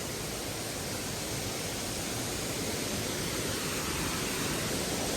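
Broadband rushing roar of a waterfall at Krangsuri in Meghalaya, steady and fairly loud throughout with no voices, water crashing continuously without pause.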